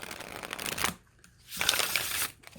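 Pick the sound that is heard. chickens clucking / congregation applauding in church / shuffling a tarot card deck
shuffling a tarot card deck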